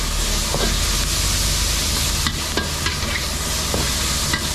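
Larb being stir-fried over high heat in a good iron wok, a constant loud sizzle and hiss with occasional scraping and tapping of the utensil against the pan.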